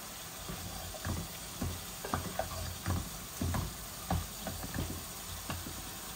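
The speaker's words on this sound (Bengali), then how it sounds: "এখন একটু এটাকে নাড়াচাড়া করি সবজিটাকে" Vegetables being stirred in a cooking pot for a fish and potato curry with green tomato, a series of irregular soft scraping clunks and sizzling taps over a steady background hiss.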